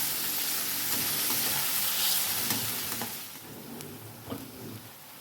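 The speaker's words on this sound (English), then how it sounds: "Cook this till the onions have a light color on them." Finely chopped onion seasoned with salt frying in a pan, a steady close sizzle with occasional stirring taps, fading slightly toward the end.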